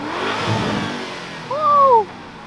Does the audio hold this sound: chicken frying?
no